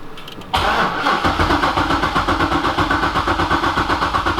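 Corvette C6 Z06 engine cranking with the clutch pedal pressed in, a loud, steady rhythmic churn of the starter turning the engine over without firing, continuing for several seconds.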